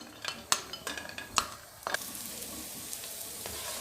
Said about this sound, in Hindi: इनको हम लोगों ने फ्राई करना है और सिर्फ तब तक फ्राई करना है जब तक इसकी खुशबू ना हमें आए